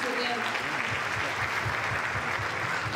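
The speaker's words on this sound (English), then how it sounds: "Please let's clap for them." An audience at a ceremony claps in a steady, dense wash of applause that stays loud throughout, with a voice audible over the start.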